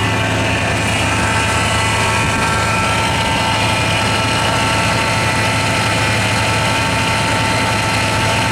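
The engine of a 1984 Lincoln Continental idles steadily and loudly up close, a continuous low rumble with a constant drone and no change in pitch, and nobody talks over it.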